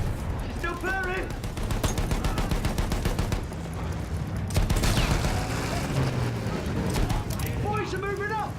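Battlefield 1 combat in muddy World War I trenches, with rapid rattling gunfire running steadily throughout amid clattering battle noise. Shouting voices come and go over the shooting.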